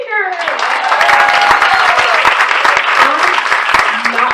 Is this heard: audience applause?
yes